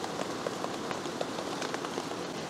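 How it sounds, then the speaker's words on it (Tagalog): First rain falling on a roof at a riverside campsite, a dense steady patter of drops with scattered sharper taps, close and continuous without talk. "Kung narinig nyo yung patak ng tubig, unang ulan sa ating bubong"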